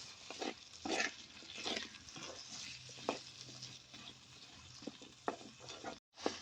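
Potatoes stirred and roasted with spices in a pan for aloo palak, with soft scraping strokes and light crackle recurring at a slow, uneven rhythm, faint and close, with no talk.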